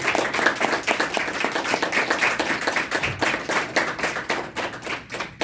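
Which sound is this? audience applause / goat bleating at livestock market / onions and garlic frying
audience applause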